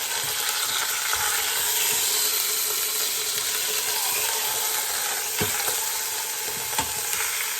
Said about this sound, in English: Got a nice sear on it, if you can see that.